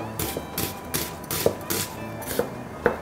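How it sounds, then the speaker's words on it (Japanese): A kitchen knife cutting into a peeled onion with the heel of the blade, leaving one end joined, on a board while preparing keema curry: a series of separate, fairly soft knocks and slices at an uneven pace, each a short thud, heard close with no talking. "玉ねぎのこちら側だけをつなげたまま、包丁のこっちのお尻だけで刃を入れていきます。"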